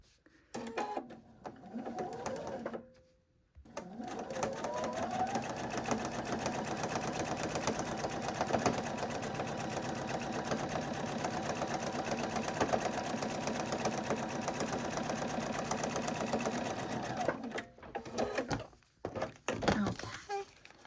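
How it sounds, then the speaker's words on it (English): A sewing machine stitches a piece onto a filigree corner quilt block, running in one long, steady, close whirring burst of rapid needle clatter, with brief handling noises before and after. "And now we're going to sew this piece on."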